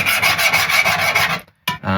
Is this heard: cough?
no